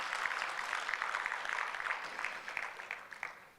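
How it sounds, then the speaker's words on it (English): Audience applause at a conference, a dense steady patter of many hands clapping that carries on throughout before fading slightly at the end, with no voices over it. "So please give yourself a good round of applause for them."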